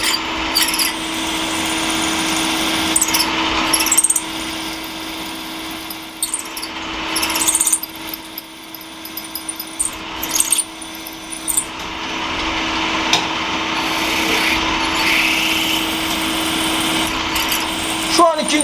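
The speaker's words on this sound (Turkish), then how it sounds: "Delik delmeye başladı." A steady mechanical whir and grinding of a C-axis lathe drilling a hole in the end face of a metal part, running continuously with occasional shifts in load, with Turkish talking over it.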